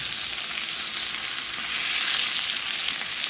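Brook trout fries in a pan with a constant, close, bright sizzle that swells slightly partway through and holds steady to the end, no voices over it.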